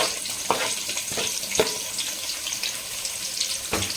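Onions for a sambar added to a hot cooking pan, giving a steady hiss with a few soft thuds and scrapes spaced through it, close and with no talk.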